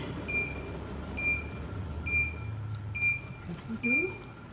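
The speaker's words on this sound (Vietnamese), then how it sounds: "Đó là tiếng báo hiệu khi nồi thiếu nước." A sterilization autoclave sounds its low-water warning, five evenly spaced electronic beeps about a second apart over a steady background hum, with a brief voice near the end.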